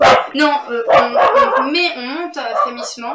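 A dog barks in short, loud bursts in a home kitchen while someone talks over it about simmering a nettle soup decoction.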